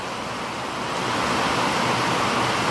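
Heavy monsoon rain pours steadily as a dense, unbroken wash of noise that swells slightly louder over a few seconds, with no voices.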